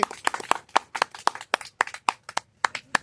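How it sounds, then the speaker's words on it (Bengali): Group of children clapping hands together at a number-guessing prize game, a bright, fairly steady rhythm of claps close by, with no speech over it. "হাততালি দাও সবাই হাততালি"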